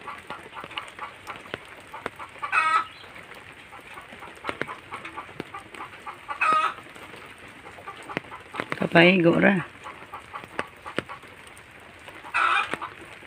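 Chickens cluck and call in short bursts spaced a few seconds apart, moderately close over a quiet background, with a person talking briefly among them.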